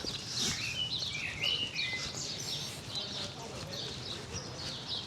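Birds sing and chirp outdoors along a hilly street in a New Zealand town, bright warbling calls repeating at moderate distance over a low background murmur.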